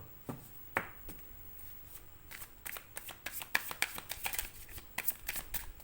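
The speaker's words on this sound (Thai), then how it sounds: "สับไพ่นานหน่อยนะ" Tarot cards being shuffled by hand, a series of crisp riffling and slapping bursts that grow quicker and denser toward the end, close up with no voices.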